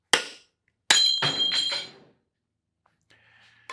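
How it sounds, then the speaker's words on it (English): A hammer strikes a welded piece of spring steel clamped in a vise: a sharp metallic crack, then a second ringing blow with clattering as the weld breaks, followed by a faint metallic ring. "I'm going to hit it with a hammer and we're going to see what happens."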